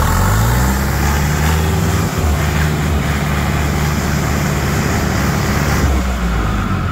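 A loud, steady engine drone with deep low rumble runs throughout, like a heavy tractor motoring along, with no voices.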